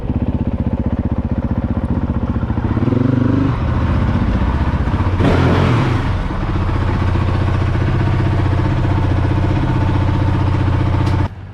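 A Honda CRF450L dual sport motorcycle engine runs steadily and close, with a brief louder burst and clatter midway before it settles back to a constant mid-pitched drone and cuts off at the end.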